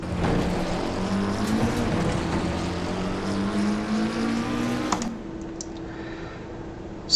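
A race car in the video game Assetto Corsa Competizione laps the Hungaroring, its engine droning steadily at high revs before the note drops sharply under braking and settles to a lower hum.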